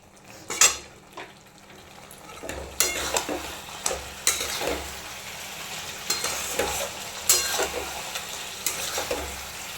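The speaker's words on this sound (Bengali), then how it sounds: "তো বেঁচে রাখা মাছগুলো আমি এর মধ্যে দিয়ে দিলে একটু কষিয়ে নেবো" Fried fish being stir-fried in a pan, a spatula scraping and knocking against the metal in irregular strokes over a steady close sizzle, with no one talking.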